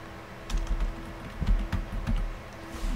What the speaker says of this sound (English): type in Modbus